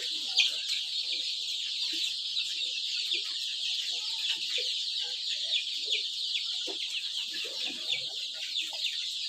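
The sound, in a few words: local chickens clucking on a poultry farm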